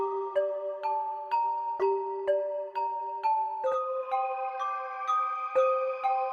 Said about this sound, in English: Now this is one of the more drier sounds, so we definitely want to add some effects to this bell.